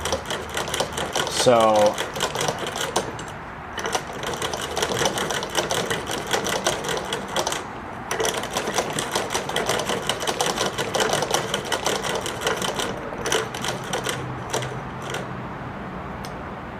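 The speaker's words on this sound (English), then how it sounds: "So this is a lock stitch machine, or a chain stitch machine." A Singer 20 chain-stitch toy sewing machine stitches a scrap of fabric, giving a rapid mechanical clatter in bursts with brief pauses, close and fairly loud, while a person talks over it.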